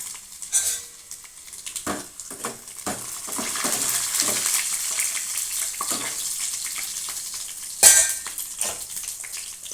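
Garlic and dried red chillies frying in a pan for a dosakaya tomato pappu: a soft close sizzle with light scraping stirs and clinks, with a brief louder splash of sizzle near the end, no talk.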